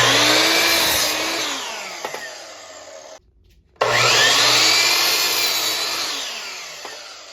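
A saw cuts 2x4 lumber and plywood pieces in a workshop, two long loud cutting passes separated by a brief pause, with a whining motor tone throughout and no talking.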